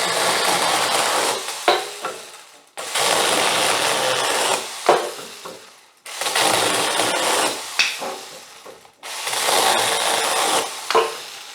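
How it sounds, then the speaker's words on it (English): Firewood is cut by hand in four long sawing bursts, each a rasping back-and-forth scrape with short pauses between, close and fairly loud. "Cutting a bit of firewood for the fire outside"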